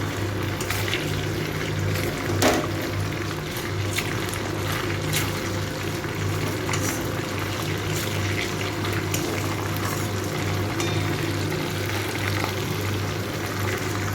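Whole cinnamon, a dried red chili, cardamom pods and peppercorns sizzle in hot oil for a yogurt chicken curry, a steady, even hiss with a low hum beneath and occasional small pops.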